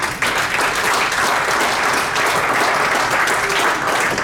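A church congregation breaks into loud, sustained applause, a thick even wash of many hands clapping close by for several seconds.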